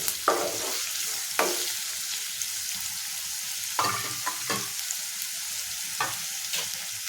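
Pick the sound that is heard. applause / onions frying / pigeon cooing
onions frying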